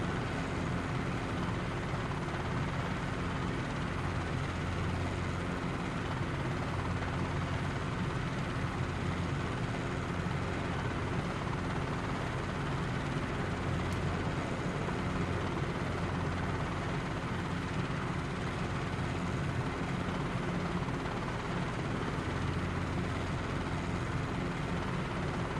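A helicopter's engine and rotor drone steadily throughout in Microsoft Flight Simulator 2020, a dense, unbroken mechanical roar with no voices.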